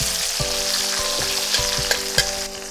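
Garlic, dried chilies and smoked cured pork sizzle and crackle in a hot wok, a loud continuous fry with rhythmic stirring scrapes and a few sharp pops.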